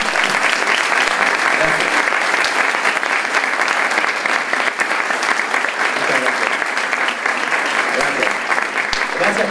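An audience at a film festival talk bursts into sustained, dense applause that runs loud and steady the whole way through, with a voice speaking over the clapping.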